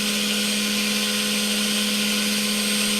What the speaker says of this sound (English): orbital sander, which will smooth them right down